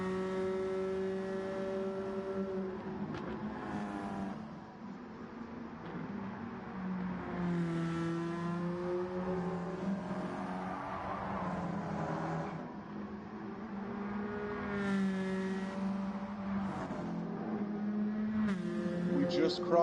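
CASCAR race cars lap the High Speed Ring in Gran Turismo 7, a steady droning engine note that rises and falls through the bends, under continuous commentator talk.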